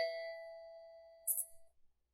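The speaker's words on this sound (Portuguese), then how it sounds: "A campainha está tocando." A single electronic doorbell chime rings out clearly with no one talking, its bright ding holding a long steady tone that fades slowly, and a second higher chime note follows briefly.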